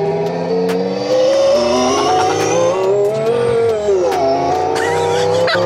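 A simulated Italian V10 engine sound plays through a car from a Vroomer OBD box, a loud, continuous high-pitched synthetic engine whine that rises and falls in pitch like revving and gear changes, with a brief dip midway.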